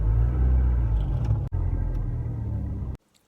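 A manual car's engine rumbles steadily as the clutch is released and the car pulls away across grass, the low drone continuing for a few seconds before cutting off abruptly.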